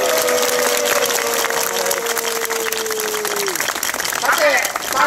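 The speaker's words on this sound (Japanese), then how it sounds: "もう一度大きな拍手をお願いします。" Crowd applause at a political rally outside the National Diet in Tokyo opposing a base at Henoko, dense broadband clapping sustained throughout with a tonal voice or whistle line sliding underneath and a swell near the end.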